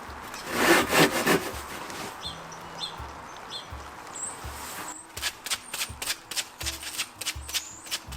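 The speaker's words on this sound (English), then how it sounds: "Just sanding down the backs of the hooks" Sandpaper scrubs against the backs of wooden hooks on a glass table in bursts, loud strokes early then a run of quicker, lighter rasps, with faint knocks and a high chirp in the background.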